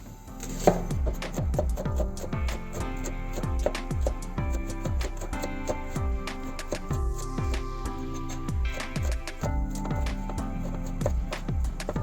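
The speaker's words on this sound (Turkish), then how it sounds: "biz de soğanımızı doğrayalım" A knife chops onion steadily on a cutting board, quick repeated thuds in an even rhythm, close up with no talking.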